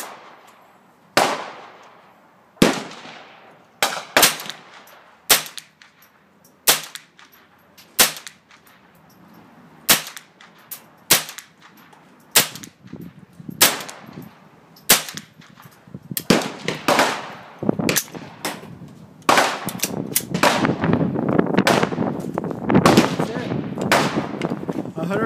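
An AR-15 fitted with a CMMG .22lr conversion kit fires single rounds outdoors, sharp cracks spaced a second or two apart, then quickening into rapid strings of shots toward the end.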